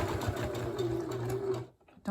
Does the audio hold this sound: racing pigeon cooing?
no